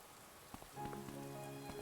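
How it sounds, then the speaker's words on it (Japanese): Rain falling in the video game Atelier Ryza 3: a soft, steady hiss of rainfall that thickens after a brief pause, with faint sustained tones ringing over it. "異界でも雨って降るんだな。"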